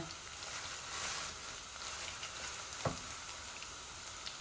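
A whole garlic clove frying in oil in a pan for a rohu fish curry, an even crackling sizzle throughout with one sharp tap partway through, close and alone.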